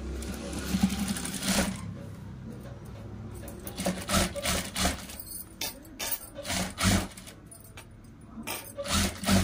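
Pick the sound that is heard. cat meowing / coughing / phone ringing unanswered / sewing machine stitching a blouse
sewing machine stitching a blouse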